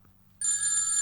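A telephone rings in a quiet room, starting abruptly after a short near-silence and holding as a loud, steady electronic ringing tone.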